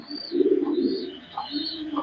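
A female pigeon coos close by, giving several soft, low, rolling coos in quick succession.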